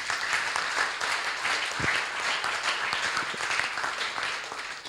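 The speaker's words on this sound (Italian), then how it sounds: "facciamogli un altro applauso" An audience at a conference on climate change and land transformation gives sustained applause, a steady wash of many hands clapping in a large room, fading slightly at the end.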